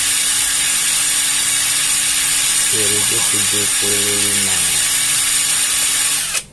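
A Dagmara D3301 impact wrench tightens with a steady motor hum, broken midway by a few seconds of rapid rattling hammer blows, while someone speaks briefly.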